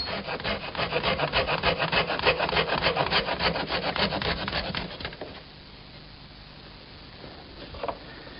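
A handsaw cuts a notch into a wooden board for a dollhouse roof, with about five seconds of fast, rhythmic rasping strokes close up before the cut ends, followed by quiet and a faint knock.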